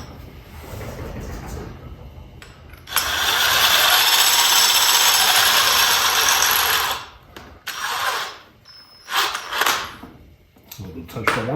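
A ratcheting spring compressor being tightened on C8 Corvette suspension, with a long run of loud whirring from about three to seven seconds, then shorter mechanical bursts and clicks, and a voice now and then.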